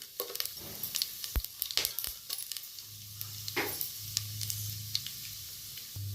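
Cinnamon, fennel seeds, cloves and bay leaf frying in hot oil for a country-chicken curry, a soft continuous sizzle dotted with quick crackles and small pops, plus occasional utensil clicks and a low hum, close up with no talking.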